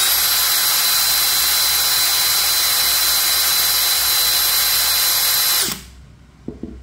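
DeWalt DCD805 cordless drill spinning at speed setting 2 in drill mode with a 5Ah battery, giving a loud, steady high-pitched motor whine that cuts off abruptly near the end, followed by a couple of faint clicks.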